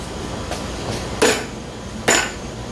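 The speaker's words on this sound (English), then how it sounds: "Let me grab the rubber hammer real quick." A rubber hammer strikes a part during a 1600 VW engine build: a few dull, soft taps followed by two sharper smacks, close and alone in a quiet workshop.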